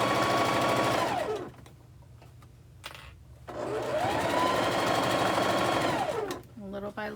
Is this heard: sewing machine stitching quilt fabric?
yes